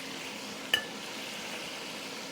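Chunks of beef for red wine stew sear in a pot, giving a steady soft sizzle with a single metallic clink of a utensil against the pot early on.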